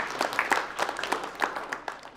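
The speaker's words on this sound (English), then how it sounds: "I think we should give you guys a round of applause." A small group claps for elementary students at First Ave public school, quick uneven claps close by in a short burst.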